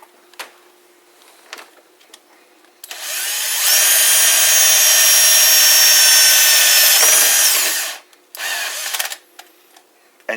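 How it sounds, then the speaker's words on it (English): A cordless drill bores out the hole for a shutter tensioner in one loud, sustained whine of about five seconds. It starts and stops with short bursts and handling clatter on either side. "you take your cordless drill and your part,"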